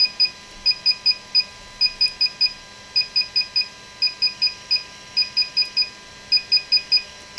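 Short electronic beeps from a DJI Phantom 4 Pro remote controller during a firmware upgrade repeat in steady groups of three to four, clear and close in an otherwise quiet room, with no talk.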